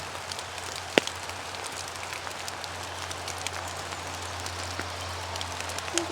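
Steady rain falling outdoors, a soft continuous patter with occasional sharper drips, quiet and even throughout.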